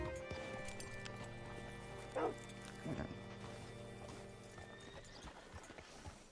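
Horse hooves clip-clop steadily at a moderate distance while a horse gives two short whinnies and snorts over a low ambient hum, in Red Dead Redemption 2.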